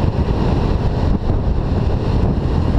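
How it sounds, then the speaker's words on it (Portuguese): Riding a Honda Lead motor scooter along the coastal road toward Grumari in Rio de Janeiro, with a loud, constant rush of wind buffeting the microphone over a low, steady drone. "A bordo aqui da nossa Honda Lead."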